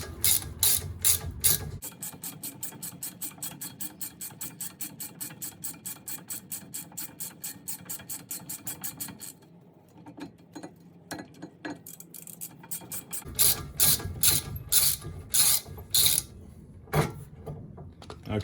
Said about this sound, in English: Get the top bolt out.